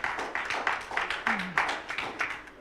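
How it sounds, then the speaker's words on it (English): Applause from an audience at a company's annual general meeting, a steady patter of moderate, somewhat distant claps with a brief voice or tone sliding through the middle. "Ladies and gentlemen, let's give a round of applause to them."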